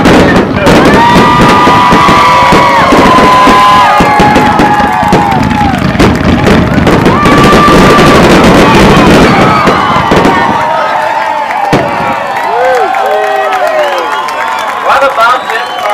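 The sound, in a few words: fireworks show with crowd cheering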